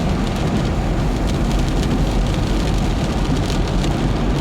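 Steady rain drums on a car windscreen, a dense, continuous patter close by with no gaps, heard alone without talking.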